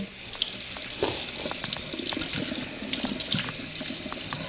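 Running tap water streams steadily over a lobster being rinsed in a sink. The water sound is continuous and close, broken by occasional splashes and small knocks, with no talking.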